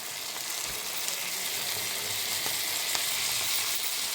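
Tomato fries with onion and garlic in a pan, producing a steady, bright hiss of sizzling oil at moderate volume with a few faint clicks of stirring.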